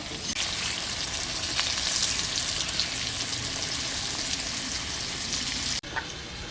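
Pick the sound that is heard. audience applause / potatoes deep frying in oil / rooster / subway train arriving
potatoes deep frying in oil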